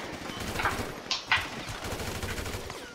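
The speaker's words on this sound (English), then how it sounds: "it was shooting with. This AK." AK rifle firing in GTA V: rapid bursts of distant-sounding automatic gunfire, with a few sharper cracks standing out over a dense rattling background.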